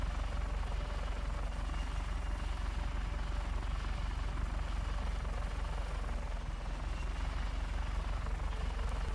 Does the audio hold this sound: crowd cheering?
no